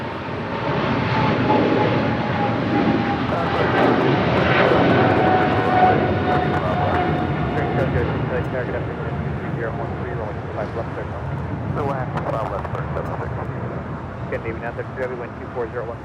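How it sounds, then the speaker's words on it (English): A Japan Air heavy jet airliner departs toward Tokyo Haneda, a broad engine roar that swells over the first seconds and slowly fades as it climbs away, with people talking throughout. "This is Japan Air 15 Heavy departing to Tokyo Haneda."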